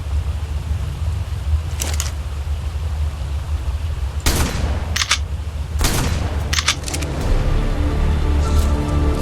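Gunfire in Ark: Survival Evolved, a handful of sharp shots in scattered bursts over a steady low rumble of background noise, fairly loud and close, with no talking.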